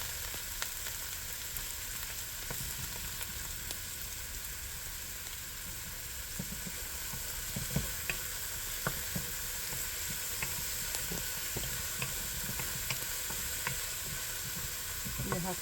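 Red snapper frying and being stirred in a pan, a steady low sizzle with scattered light scraping clicks, fairly quiet and continuous throughout.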